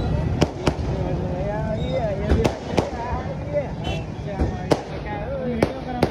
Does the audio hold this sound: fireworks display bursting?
yes